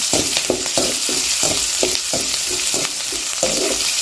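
Onions frying in a pan for beetroot rice, a loud close sizzle broken by repeated scraping stirs that come in a quick, uneven rhythm.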